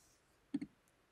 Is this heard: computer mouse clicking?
yes